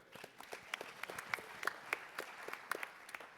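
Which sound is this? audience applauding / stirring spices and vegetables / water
audience applauding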